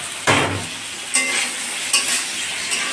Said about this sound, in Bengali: পটল ভাজি হইতে তো টাইম লাগে না